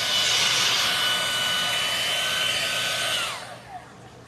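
A hair dryer blows steadily and loudly up close while drying milk paint on a chair, then winds down and cuts off near the end.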